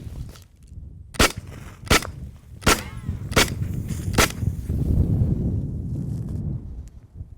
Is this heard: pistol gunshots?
yes